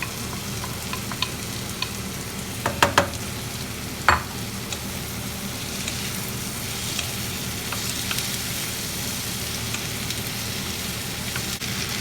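Okra and potato frying in a pan and being stirred together, a low steady sizzle with a few sharp clanks of a utensil against the pan, moderately quiet, no speech.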